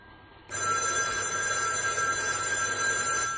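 A telephone bell starts ringing suddenly after a brief quiet moment, then continues as a steady, loud, shrill ring indoors with no talking.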